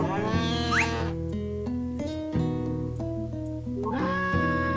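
Cows in the farming game Harvest Moon: A Wonderful Life moo in long, drawn-out calls over a looping, plucky background melody, the lowing heard clearly near the start and again at the end.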